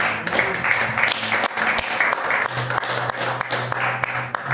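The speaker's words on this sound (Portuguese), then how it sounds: "Sentais aplaudindo ao Senhor Jesus." A church congregation applauds during a Portuguese-language worship service, steady clapping filling the room for several seconds with some voices mixed in.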